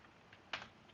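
A few faint keystrokes tapped on a computer keyboard while coding, one sharper click standing out among softer taps, quiet and close.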